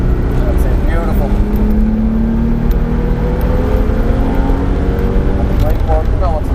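A race car at full throttle on the Mondello race track, a loud, steady engine roar that rises in pitch as it accelerates, with constant wind and road noise.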